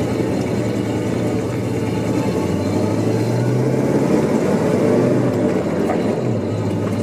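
Kawasaki Mule utility vehicle in two-wheel drive pulling away in second gear through snow, its engine a steady loud low drone throughout with a slight rise in pitch midway, no voices.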